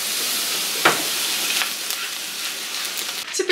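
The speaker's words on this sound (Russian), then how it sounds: "И обжариваю вместе лук и морковь до золотистого цвета." Onion and carrot frying together in a pan give a steady, loud sizzle throughout, with a few brief stirring scrapes and crackles.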